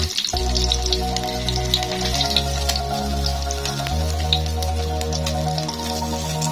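Hot cooking oil drips and sizzles as fried fish drains, a steady crackling patter that continues throughout under a low background hum.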